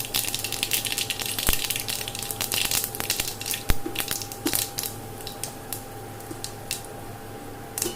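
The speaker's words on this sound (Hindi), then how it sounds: "तो फोरन चिटक गया है" Panch phoron spices crackling in hot oil while cooking stuffed parwal, a steady dense sizzle with scattered sharp pops throughout, close and alone without talk.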